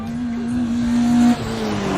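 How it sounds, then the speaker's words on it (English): A car engine hums with a steady pitched whine that holds and then drops abruptly, as if speeding past, with a faint squeal-like edge. "It's a car."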